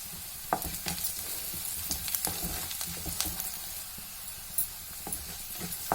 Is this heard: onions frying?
yes